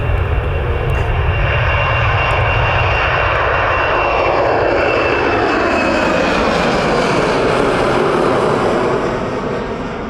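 Jet airliner taking off from Manchester Airport, a loud sustained engine roar that rises, with sweeping pitch changes as it climbs away, then fades slightly near the end; no voices.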